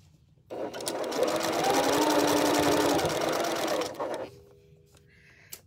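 A sewing machine runs in one continuous burst of rapid mechanical stitching for about three seconds, starting and stopping cleanly, with quiet surroundings before and after.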